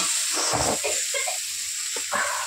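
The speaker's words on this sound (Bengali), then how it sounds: "তো মাছটা ভেজে নিই" Small jiol fish fry in hot oil, a close, continuous sizzle and hiss with softer bubbling bursts rising and falling beneath it.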